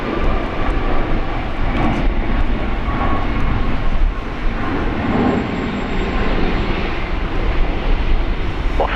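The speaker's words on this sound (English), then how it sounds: "Virgin Australia taking off." Virgin Australia airliner taking off at Brisbane Airport, a steady, loud jet engine roar holding evenly throughout with a broad rumbling wash.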